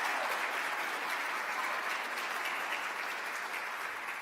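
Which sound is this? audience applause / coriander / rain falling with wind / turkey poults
audience applause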